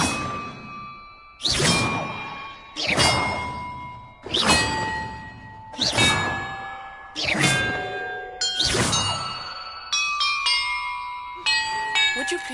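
Large bells in a Hogwarts video game ring out loud and near, about seven evenly spaced resonant strikes, each clanging peal decaying into the next, with a few quicker, lighter chimes at the end.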